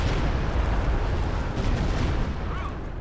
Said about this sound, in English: Another Stukas barrage here.